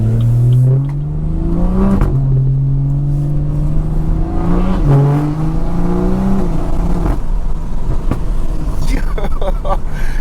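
A BMW 340i with a B58 engine and a very loud aftermarket exhaust revs repeatedly, rising and falling, with crackling pops and burbles from the exhaust between revs around 3,000 RPM; loud and close.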